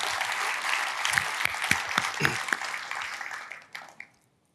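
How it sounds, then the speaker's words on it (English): A conference audience gives a panel on automotive mobility research a sustained round of applause, with dense clapping that fades out near the end and then stops. "Please join me one more time in giving a round of applause for Pete Gorojec and this"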